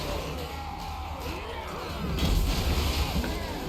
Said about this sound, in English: And death rains down in the form of canister shot.